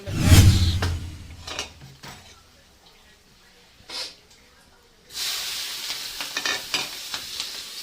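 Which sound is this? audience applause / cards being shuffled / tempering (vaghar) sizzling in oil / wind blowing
tempering (vaghar) sizzling in oil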